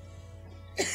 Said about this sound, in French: elle a de la toux